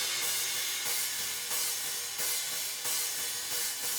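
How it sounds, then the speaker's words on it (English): Harsh, sizzly cymbals soloed from a drum mix's cymbal bus, a dense continuous hiss of crashes and rides with steady rhythmic hits, loud and without talk. "Let's go to our cymbal bus"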